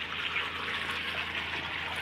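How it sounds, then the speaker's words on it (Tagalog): Water pours steadily onto a flat concrete rooftop during a leak test, a continuous close splashing and trickling rush with no talk. "So kita nyo po naglalagay na po tayo ng tubig dito po sa rooftop."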